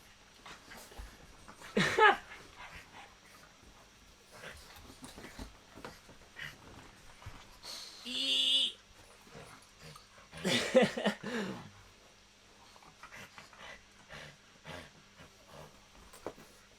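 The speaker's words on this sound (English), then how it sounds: "Dog fight." Pugs play-fight on a bed with scattered snorts, huffs and a few louder growling bursts, fairly faint and intermittent, close to the microphone.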